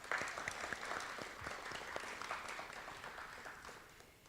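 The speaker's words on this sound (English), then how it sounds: "I also want to give a round of applause to the audience" Audience applause at a student-voices evening event: a steady, dense patter of many hands clapping, moderately distant and fairly quiet, sustained evenly and tapering slightly toward the end.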